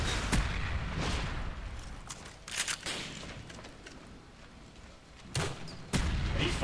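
Gunfire and explosions crackle through a Call of Duty Black Ops Gun Game match, a busy stretch of sharp bursts and heavier booms at irregular intervals over a rough, noisy background.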